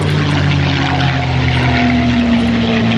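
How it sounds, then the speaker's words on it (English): A WWII fighter airplane flies a loop at the 2007 NAS Oceana airshow, its propeller engine droning in a loud, steady, throaty roar throughout. "This airplane had a top speed of about 425 miles per hour and was one of the premier fighters in all of World War II."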